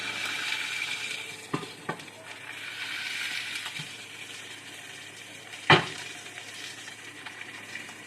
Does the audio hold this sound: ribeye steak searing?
yes